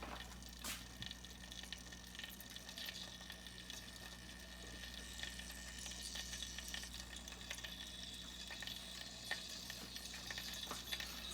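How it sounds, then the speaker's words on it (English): Onions and garlic sizzle steadily in a hot pan on high heat, a constant crackling hiss with occasional sharp pops, no voices. "Once I hear that sizzling starting, that's when I got in there."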